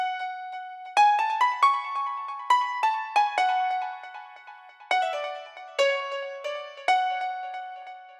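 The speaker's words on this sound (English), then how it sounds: "Here I use two pianos, Korg M1 and Korg Triton." A dream trance piano melody layered from Korg M1 and Korg Triton pianos, bright struck notes ringing in a lilting repeated phrase, clear and alone at moderate loudness.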